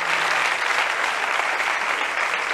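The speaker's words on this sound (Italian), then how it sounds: "Facciamo un applauso" A TV studio audience during an Italian entertainment show applauds in a continuous, even roar of many hands, loud and sustained throughout without a pause.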